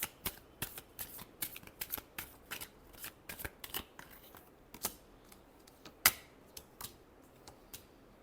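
Tarot cards being shuffled, a run of crisp riffling snaps and flutters in an uneven rhythm, close and fairly quiet, with no talking.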